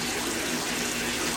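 Water emptying from a bottle through a hole in its cap in a barrel aquaponics flush system, a constant close rushing trickle with no pauses.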